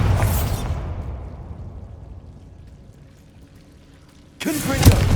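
The Bombarda blasting spell in Hogwarts Legacy: a loud whooshing burst that decays into a long rumbling tail and then fades to near quiet, followed by another sharp, loud blast at the end.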